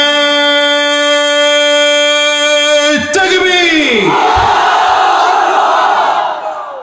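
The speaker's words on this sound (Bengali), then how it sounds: "এবার কণ্ঠের যতটুকু আওয়াজ আছে পুরোটা আওয়াজ ছেড়ে দিয়ে একটা তাকবীর হবে।" A large crowd roars a takbir at full voice, opening in a long, loud unison shout and breaking into a ragged, swelling cheer.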